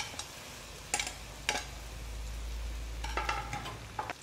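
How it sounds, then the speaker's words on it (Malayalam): Banana pieces sautéing in oil and ghee in a pan, a soft low sizzle under scattered stirring scrapes and clinks, fairly quiet and close. "നമുക്ക് നേന്ത്രപ്പഴം, അതായത് ബനാന, നമ്മൾക്ക് ഇതിലേക്ക് ഇട്ട് കൊടുത്ത് നല്ല വഴറ്റിയിട്ട് എടുക്കാം"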